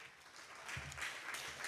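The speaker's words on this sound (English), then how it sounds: "A round of applause to all of you" An audience claps together in a meeting room, a moderate burst of applause that swells after a quiet start and continues to the end, somewhat distant.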